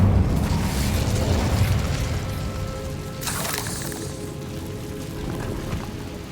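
Fiery burst of the Incendio spell in Hogwarts Legacy, a whooshing blast over a constant dense background rumble, followed by a brief sharper flare of crackling noise partway through.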